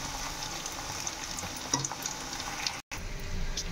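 Ivy gourd (dondakaya) roast-frying in a pan gives a steady, close sizzle with faint crackles and occasional stirring clinks, running continuously with only a momentary break near the end.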